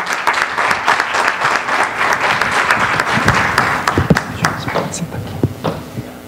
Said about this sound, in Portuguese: Vamos saudar Luiz Magalhães com a salva de palmas